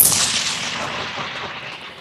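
Artillery gun firing on a U.S. Marines live-fire range in Australia: the tail of one loud blast decaying into a long rolling rumble that fades over two seconds.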